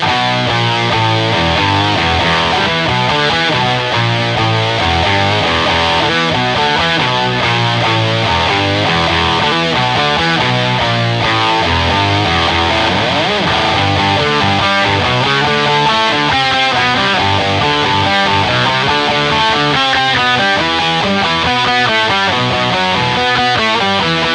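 A heavily fuzzed, overdriven electric guitar through a Big Muff pedal plays a thick, saturated line with a low octave underneath, loud and continuous with no talking.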